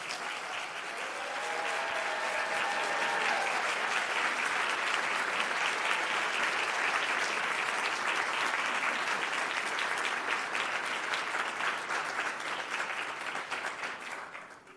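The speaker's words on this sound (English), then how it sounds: "Let's extend a warm round of applause to the 2024 North Carolina Principals of the Year." An audience at a ceremony honouring the 2024 North Carolina Principals of the Year breaks into sustained applause, many hands clapping steadily for about fourteen seconds before tapering off at the end.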